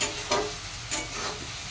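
Prawns sizzle and fry in a pan, a steady crackling hiss with a few louder bursts from stirring, close and continuous without any talk.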